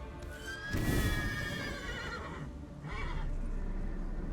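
Geralt's horse Roach, from The Witcher 3 video game, neighs in a clear, loud whinny, then gives a shorter second call a moment later over a steady game ambience.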